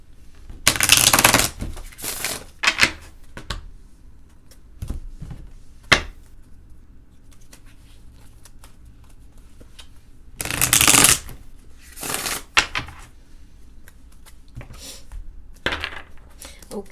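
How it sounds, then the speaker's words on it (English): Tarot of Dreams cards being shuffled in crisp, close bursts, a couple of long riffles separated by quieter taps and handling sounds. "So let's shuffle these. This is the Tarot of Dreams."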